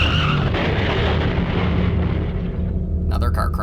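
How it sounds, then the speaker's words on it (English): A car crash sound effect from the horror video game Corpse Party: Blood Drive plays as a loud, dense rumbling roar that fades away, followed by a brief crunching burst at the end. "Another car crash."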